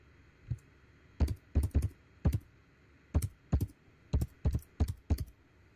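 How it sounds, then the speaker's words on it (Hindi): Someone types a password on a computer keyboard: about a dozen sharp key clicks in short irregular bursts, close and crisp against a quiet background. "ठीक पासवर्ड लगा रहा हूँ"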